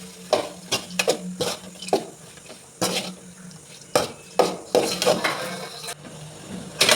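Semiya is stirred briskly in a pan with a spoon, making a run of close metallic scrapes and clanks in an uneven rhythm. A faint sizzle sits underneath.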